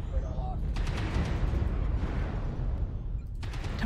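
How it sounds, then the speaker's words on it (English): Ultra autocannon fire in MechWarrior Online, a dense run of rapid heavy cannon shots hammering steadily through the whole stretch over a low rumbling battle bed. "Now, with the auto cannons, these ultra auto cannons, they can jam."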